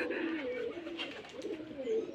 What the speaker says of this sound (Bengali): তো এই হলো একটা জোড়া কবুতর।